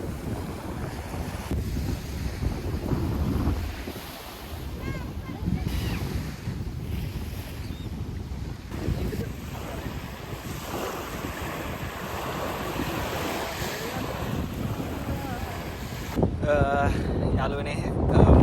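Sea waves wash onto the shore by the coast at Fukuoka, Japan, in the evening, a broad continuous surge mixed with heavy wind buffeting the microphone and a louder rush toward the end.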